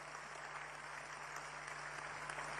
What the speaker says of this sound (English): Shall we give our national chairman another rousing round of applause?